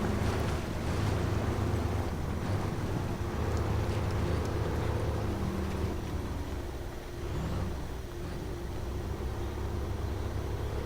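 Heavy Loadstar 1700 MAX truck ploughing through deep mud in SnowRunner, a steady loud engine rumble with churning, sloshing noise that stays constant throughout, no voices.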